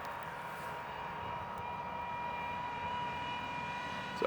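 A tractor in a rural spot near Stirling, Scotland rumbles steadily nearby, a continuous low engine drone with a slight tonal whine that grows a little louder as it passes.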